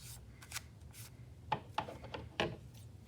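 Scissors snipping through paper while cutting a rectangle for a pop-up fish craft: a few distinct, close crisp cuts with brief sliding rustles between them, fairly quiet and without speech.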